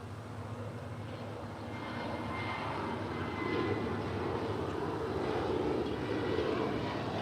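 A Spirit Airlines A320neo jet airliner at LAX, a steady distant engine roar that slowly builds and holds, low rumble dominating, with no voices.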